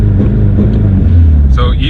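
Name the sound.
Subaru engine revving, held at 3000 RPM by launch control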